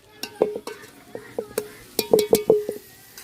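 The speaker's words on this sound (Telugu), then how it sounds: "ఉల్లిపాయ పచ్చిమిర్చి అనేది బాగా మగ్గినట్టు" Onion and green chili frying in oil in a pan, with a series of short stirring scrapes and clinks over a soft sizzle, close and moderately loud, coming in irregular bursts.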